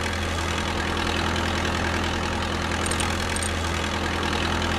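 A forklift engine idles and hums steadily in a VR training simulation while the machine reverses, a continuous low droning rumble with no voices.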